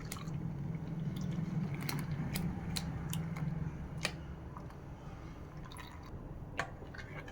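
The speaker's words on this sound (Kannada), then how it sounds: "ಇದನ್ನು ಸ್ವಲ್ಪ ಸೋಸ್ಕೊಳ್ತಾ ಇದ್ದೀನಿ" Ground solkadhi coconut mixture is strained, giving soft, irregular drips and small wet squishes over a low steady background hum, close and quiet, with nobody speaking.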